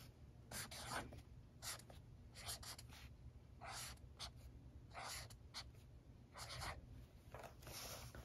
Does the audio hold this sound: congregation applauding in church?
no